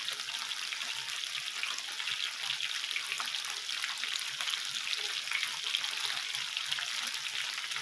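Teriyaki chicken kebabs sizzle on an indoor grill, spattering oil in a dense, continuous hiss with constant crackling and popping that holds steady from start to finish.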